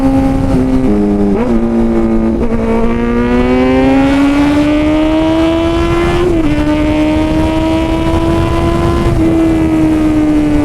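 A Kawasaki Z900 motorcycle fitted with an Arrow full-system exhaust revs loud and close, its engine note climbing in stepped blips and then holding a rising, sustained roar.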